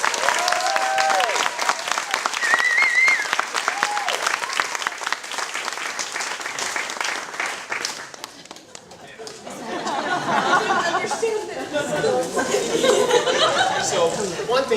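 An audience claps and cheers for a group of dancers after an Ave Maria performance. Dense applause runs with laughter and chatter and fades briefly midway before rising again.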